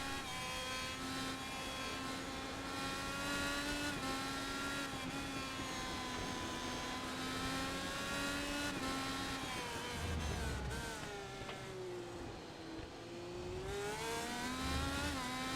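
Open-wheel race car engines in iRacing during an Indy Elite Series race at Monterey, a sustained droning whine with shifting pitch as cars throttle and pass, steady and moderately loud with no talking.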